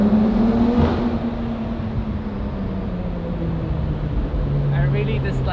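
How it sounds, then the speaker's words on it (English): BMW M4 engine droning steadily from inside the car while driving, a constant low hum with a slowly falling pitch and road and wind noise, fairly loud and unbroken. "I really dislike how this car sounds"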